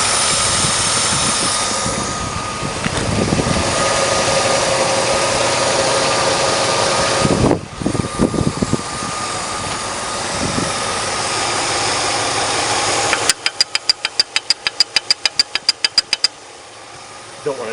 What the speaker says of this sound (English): Don't want to do any high-speed runs with this thing with the engine rocking back and forth.